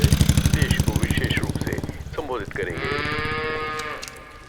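A cow moos loudly and close by, a long, drawn-out low call that swells and then fades, with no other sound competing.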